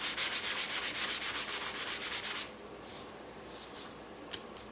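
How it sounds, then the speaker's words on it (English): Hand sanding wood with worn sandpaper, close up: rapid rhythmic back-and-forth scrubbing strokes for a couple of seconds, then softer, slower rubbing with a few faint scrapes. "this sandpaper, look at that. It's so worn."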